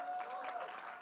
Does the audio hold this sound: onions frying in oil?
no